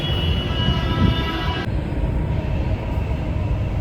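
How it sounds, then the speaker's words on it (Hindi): Inside a Delhi Metro train at Shaheed Sthal station, a steady low rumble carries a tonal whine that cuts off partway through as the train's sound shifts, with no talk. "शहीद स्थल मेट्रो के पास आ गया हूँ, और ये मेट्रो इंतज़ार कर रही है।"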